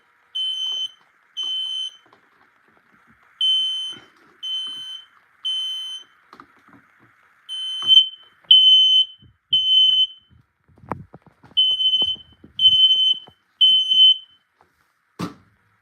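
A smoke alarm being tested sends out loud, piercing electronic beeps in short bursts, often in pairs or threes, with clicks and handling noise between them and no voices.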